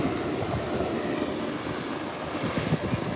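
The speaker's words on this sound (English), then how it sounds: "Very short takeoff." A propeller airplane makes a very short takeoff, a steady, fairly loud engine roar with broadband rushing noise that holds level throughout, heard from a distance outdoors.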